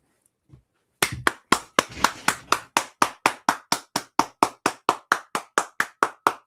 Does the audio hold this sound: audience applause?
yes